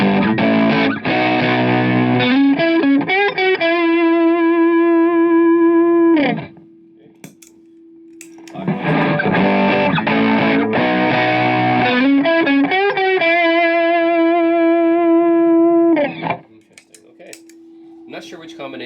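An electric guitar played through Fairfield Barbershop and Snouse Blackbox overdrive pedals stacked together rings out in loud, driven chords and short riffs, each phrase ending in a long sustained note, heard twice in succession.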